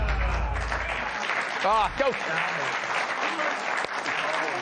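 Studio audience applause on a late-night comedy talk show, a broad steady wash of clapping that holds through the whole stretch, with a short spoken exclamation and a little voice over it.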